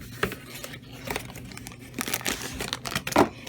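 Packaging tape and wrapping being torn and crumpled off a heavily taped cardboard box, with irregular crinkling bursts and sharp ripping pulls, loud and close, no voices.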